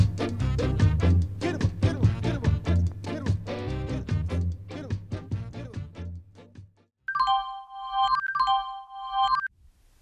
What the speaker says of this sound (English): That was the story time chime.